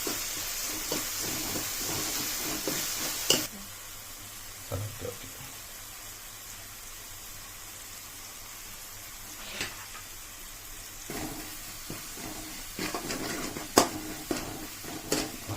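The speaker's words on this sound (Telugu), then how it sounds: "బాగా వేయించుకోవాలి ఇంకా బాగా వేగాలి" Gongura chicken frying in a pan and being stirred, with a steady hiss of sizzling at the start and again toward the end, interrupted by scraping and stirring knocks between quieter stretches.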